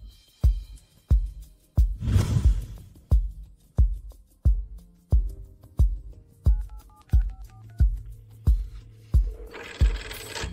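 A telephone is dialed to call family, with a regular series of sharp clicks and short tones repeating about twice per second, close and clear with no talking.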